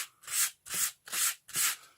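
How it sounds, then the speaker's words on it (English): Playing cards being sanded in one direction while making a card mat gaff: four even, rhythmic rubbing strokes with short pauses between them, close and fairly quiet, with no talking. "Again, just sand in the one direction"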